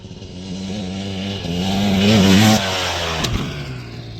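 A motorcycle engine revs hard while riding, the note climbing, peaking loud around the middle and easing slightly, with a brief click-like transient near the end; no talk.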